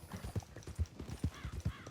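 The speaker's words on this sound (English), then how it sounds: "Matthew, probably better if you go on your own horse." Hoof clip-clops from a horse in a video game, steady and fairly close, with regular thudding steps and no talk over them.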